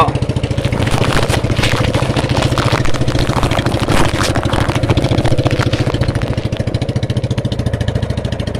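A boat's engine runs steadily as it sets out to lay nets for blood cockles, a loud, close, rapid chugging throb that keeps an even pace throughout with no talk over it.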